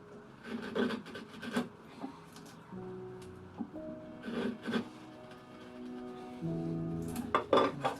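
Short scraping and shaving strokes of a knife paring wood on a cabinet, close and intermittent, with a few louder bursts and faint tool clinks between them.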